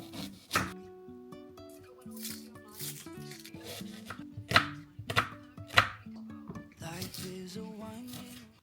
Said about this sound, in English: I've honestly just spent 5 minutes chopping this sad amount of onion.